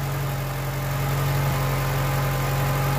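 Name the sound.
VW Polo 86C oldtimer engine idling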